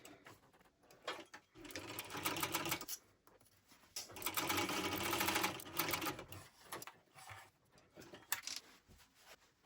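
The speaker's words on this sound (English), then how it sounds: "I'm going to top stitch at 1/8 of an inch, so move it up to a number 5" A sewing machine top stitches fabric for a shoulder bag at a long stitch length in close, quiet bursts of rapid mechanical whirring, pausing and starting again several times.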